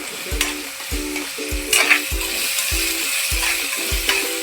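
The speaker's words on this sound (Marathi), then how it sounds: "टोमॅटो आणि कांदा एकजीव करून घ्यायचा तुम्हाला चांगला फ्राय व्हायला पाहिजे" Tomato and onion frying together for a Malvani-style chole masala, with a continuous hissing sizzle and a spoon scraping the pan in a regular rhythm about every half second, close and clear, no voices.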